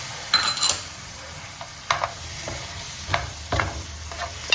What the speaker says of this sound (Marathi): त्यामध्ये आता आपण शेंगा मिक्स करतोय शेंगा शेवगाचं शेंगा आणि प्लस आपण मिक्स करतोय बटाटा बटाटा